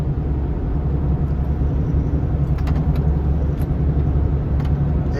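Constant low tire roar from a car driving on the road with a suspected tire problem, a steady rumbling drone throughout with faint rattles, and no one talking.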